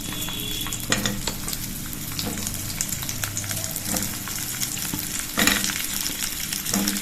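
Stuffed spiny gourds (kakora) frying in a spoonful of hot oil in a kadhai, with a steady close sizzle broken by several louder scraping stirs.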